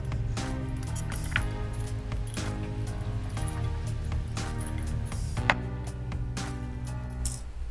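Homemade tablets for hydrogen gas drop into liquid in a bottle, giving a soft, steady fizzing and squishy bubbling with faint clicks, quiet and close throughout.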